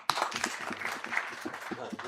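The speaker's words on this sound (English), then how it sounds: "Can you clap for him?" An audience at a national universities copyright and authorship workshop claps for a speaker, a short burst of scattered, moderately loud applause mixed with some voices.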